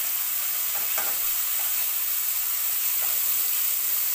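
Bengali spice masala being sautéed in a pan, a bright, even hiss of frying with a few faint stirring scrapes, close and continuous, with no talk over it.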